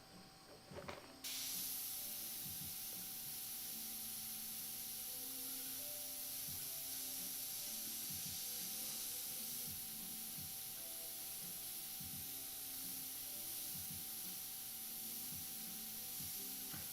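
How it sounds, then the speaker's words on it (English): A noisy air compressor runs throughout the paint spraying for a portrait, making a loud, continuous hiss that starts abruptly after a second. Regular low thumping pulses from the compressor motor repeat beneath the hiss. "And again, I apologize about my air compressor."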